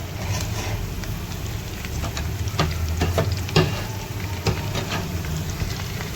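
Garlic and cumin tadka frying in hot oil for dal, a steady loud sizzle with occasional clinks and scrapes from stirring, no voices.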